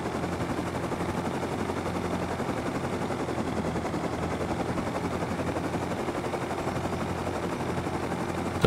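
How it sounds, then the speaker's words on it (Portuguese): Helicopter in the game Rust makes a steady, loud whirring drone with rapid rotor chopping that holds evenly throughout, no voices on top. "Eu vi um helicóptero pousando"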